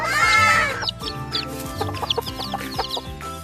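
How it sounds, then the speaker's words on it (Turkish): A chicken clucks repeatedly in quick, uneven bursts after an opening squawk, close and clear with no talking. "This is a chicken."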